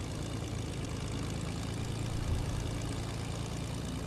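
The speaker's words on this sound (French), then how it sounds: "Et on va prendre l'avion." Propeller airplane engine in a video game deathrun map, a steady low droning hum running evenly throughout with no talk over it.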